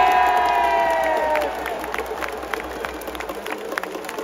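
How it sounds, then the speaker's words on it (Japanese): Loud baseball stadium crowd roars and cheers during a Hanshin Tigers post-game hero interview, with whistles and shouting near the start, then settling into a broad, sustained wash of cheering with scattered claps. "この歓声聞いていかがでしょうか"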